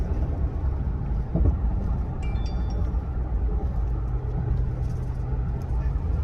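Isuzu MU-X 1.9 SUV (2021) with a changed final drive ratio and limited-slip differential accelerating, a steady low engine and road rumble heard from inside the cabin.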